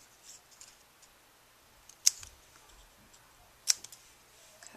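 Two crisp snips of scissors cut through layered paper for a paper flower card, each short and close, with quiet rustling of paper between them.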